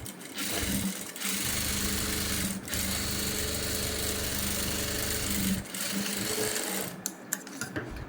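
An electric sewing machine runs steadily, stitching a straight line through blouse fabric with a dense, continuous mechanical hum, pausing briefly around the middle before resuming, then stopping near the end with a few small clicks.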